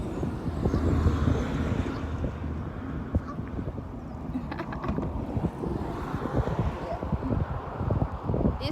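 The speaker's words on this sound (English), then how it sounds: "You can hear the noise of the car." Traffic rumbles past on a busy road, a continuous roar of passing cars with wind buffeting the microphone and some soft knocks, while people talk nearby.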